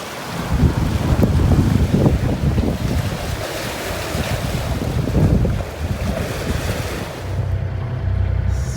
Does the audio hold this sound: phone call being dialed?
no